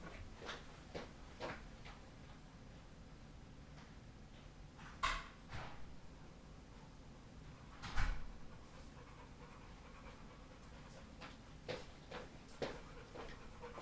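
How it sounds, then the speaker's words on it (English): A hot dog pants steadily and close by, a soft rhythmic breathing carried through most of the stretch, broken by a few sharp knocks and bumps like a cupboard or door moving. "It's really hot out here, or because you can hear her panting."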